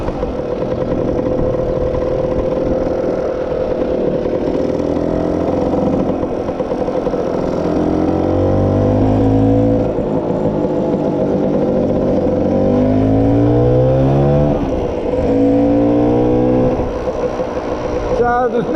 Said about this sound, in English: Engine's starting to get warm now, 60 degrees, so now it's running a little bit smoother.